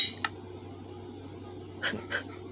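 A video game dog gives a few short, soft yips and whimpers over a steady low background hum, with no talking.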